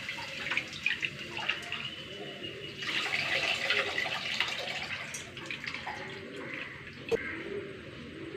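Tamarind water is poured into a cooking pan for a Palakkad-style tamarind dish, giving a steady watery pour and splash with chirping birds in the background.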